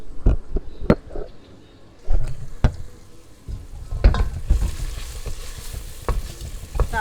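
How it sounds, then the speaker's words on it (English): Onion fries steadily in olive oil in a pan, sizzling, with scraping stirs and clacks of a utensil against the pan. "That is the onion frying away."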